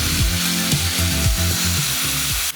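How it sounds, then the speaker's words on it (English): A power tool grinds steadily with a rising and falling motor pitch, repeated passes of abrasive sanding removing a resin layer from a knife handle, loud and close, no voices. "Now we need to get rid of the resin layer on this."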